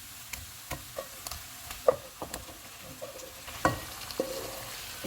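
Mutton frying with spices in a pan, with soft crackling sizzle and scattered sharp ticks and clinks as pieces are stirred, fairly quiet and close, with no talking.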